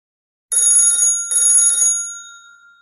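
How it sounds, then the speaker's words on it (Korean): An electronic telephone bell in the mobile game Mystic Messenger rings in two loud, bright bursts, with the second ring's tone lingering and fading. "전화벨이 울리고 있어."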